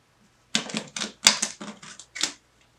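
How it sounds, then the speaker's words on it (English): A tarot deck is shuffled in a rapid series of crisp, clattering bursts, about six quick flurries close up against near silence. "We'll go ahead and shuffle your deck."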